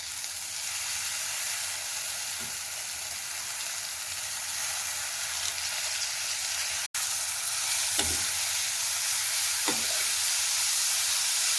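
Bitter gourd with tamarind leaves frying in a pan, a continuous soft sizzle with occasional stirring scrapes and a sharp click midway, no speech.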